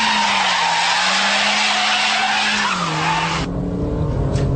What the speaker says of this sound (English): you've got to flick left then right, let the tail go right out, and then hammer the throttle to bring it straight